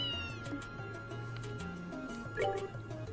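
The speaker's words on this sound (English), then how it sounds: "Well, it's always good to see my favorite kitty." A cat meows in the role-playing game Trails in the Sky SC, a few short mewing calls over soft game music, clear and close with no talking.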